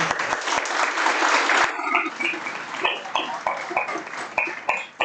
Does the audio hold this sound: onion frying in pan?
no